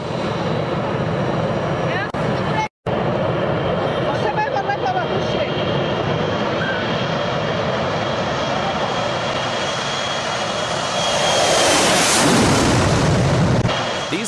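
A Russian aircraft takes off slowly, its engine roaring loud and continuous with a brief dropout early on, the tone swelling and shifting as it passes overhead.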